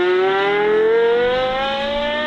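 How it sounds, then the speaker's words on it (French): A Porsche Carrera GT exhaust revving up, its steady, smooth engine note rising in pitch over a couple of seconds. The tone is loud and close, with no voices. "Carrera GT avec un échappement."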